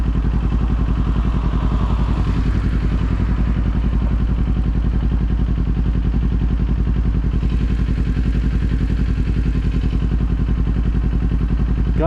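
A Kawasaki Z400 motorcycle engine runs close and loud with a steady, throbbing mid-pitched pulse and a mechanical clatter over it, holding at a constant idle without revving.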